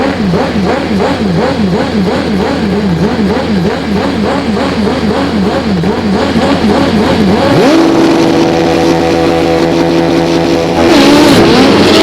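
Pro Stock drag bikes from the 2002 AMA Prostar championship, machines running six-second passes at over 200 mph, roar loudly and closely, their wavering engine note giving way to a steady high-pitched drone that surges again near the end.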